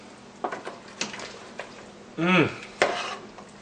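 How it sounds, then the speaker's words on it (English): Utensil clinks and scrapes against a pot of Vietnamese beef pho as ingredients are stirred in, several light taps followed by a louder swirling scrape, close, with a voice speaking briefly. "I'm going to add 2 of these. And give that a good stir."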